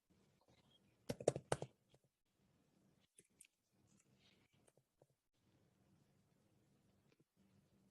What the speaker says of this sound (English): Just doing some math here on my calculator.